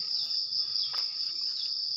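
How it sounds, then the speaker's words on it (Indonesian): Crickets chirp steadily beside a small flowing stream near longan trees and bamboo, a continuous high, shrill trill holding at an even level for the whole stretch with no talk. "bersama dengan bunyi jangkrik yang bertasbih pada Sang Maha Kuasa"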